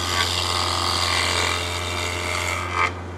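Wood lathe turning a raised winged wooden bowl, a bowl gouge with a 40-40 grind riding the tool rest; a steady close whirring hum with a continuous scraping, shaving cut that eases off briefly near the end.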